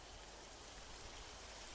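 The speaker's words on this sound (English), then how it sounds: "Oh, there's the rain." Steady, soft hiss of rain falling in the video game Arma 3, an even wash of noise with no distinct drops, quiet and unbroken throughout.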